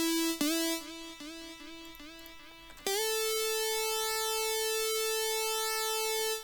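Chiptune-style pulse-width-modulated synth tone from Serum, first a run of short repeated notes with a warbling LFO-swept buzz, then one sustained bright, harmonically rich note held steadily to the end, loud and alone.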